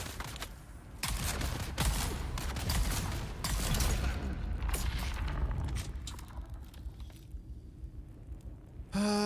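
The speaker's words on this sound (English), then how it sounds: "Why are you shooting random?" Rapid gunfire bursts in Dune Awakening, a dense close fusillade of shots for several seconds that thins into scattered single cracks before fading out.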